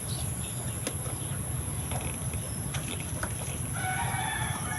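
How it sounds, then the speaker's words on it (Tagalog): Chickens clucking with a rooster crowing over a steady background hiss, the birds at moderate distance and heard alone without talk. "Aba, yung mga manok dun, oh."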